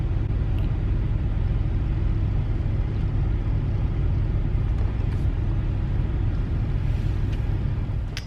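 Steady low rumble of a car interior while driving, continuous and loud road and engine drone throughout with no talk.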